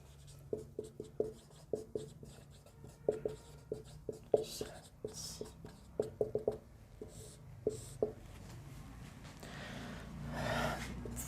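Pen or chalk writing by hand during a maths lesson on sets, heard as a run of short, crisp strokes and taps in irregular bursts, fairly close, with no talking over it.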